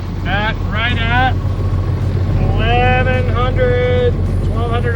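Sailboat running under its inboard motor at about 7 knots and 1200 RPM in light wind, a steady low engine drone and water rush throughout, with people talking over it.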